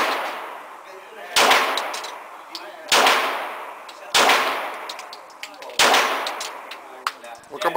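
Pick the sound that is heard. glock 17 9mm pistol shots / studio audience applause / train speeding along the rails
glock 17 9mm pistol shots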